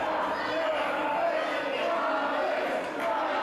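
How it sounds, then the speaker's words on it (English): A wrestling crowd at a London event keeps up a sustained roar of cheering and shouting under a commentator's voice. "the crowd are getting behind him"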